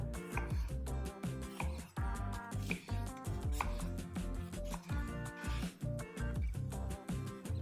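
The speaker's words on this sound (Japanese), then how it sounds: "で次に玉ねぎは薄切りにしていきます。" A knife thinly slices an onion on a cutting board, a steady run of quick, crisp chops close by, with pauses between short bursts and no talk.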